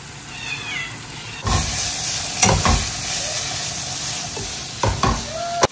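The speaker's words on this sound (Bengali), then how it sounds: "এখন পেঁয়াজটা দিয়ে হালকা মানে নাড়াচাড়া করা হচ্ছে" Onion, ginger and garlic sizzling steadily in a pan, with occasional scraping clinks of a spatula stirring them and a faint cat-like squeak in the background.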